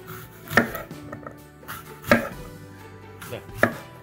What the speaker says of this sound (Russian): Нарезаем яблоко.